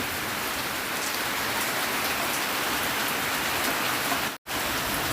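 Steady, dense rain pours down continuously with an even hiss, close and loud, broken only by a momentary dropout near the end.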